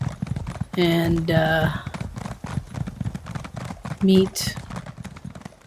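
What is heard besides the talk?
horse hooves clip-clopping in video game Elder Scrolls Online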